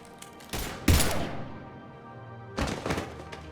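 Two bursts of gunfire in Mass Effect 3 ring out with a heavy thump and a loud crack. After a lull, a further cluster of shots follows, set against a low game background.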